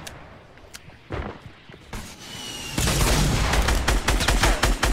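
Heavy shotgun blasts in Fortnite start with a few scattered sharp shots, then become a dense, loud run of rapid booming gunfire that continues to the end.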